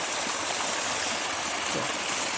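Water pouring out steadily into a farm field for onion plants, a continuous loud rushing and gurgling flow with no pauses, close by and heard alone.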